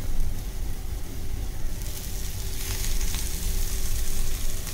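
Moringa flowers, squeezed of water, hit hot oil with frying onion in a home kitchen, giving a steady close crackling sizzle that brightens and intensifies partway through, with faint stirring and no voices.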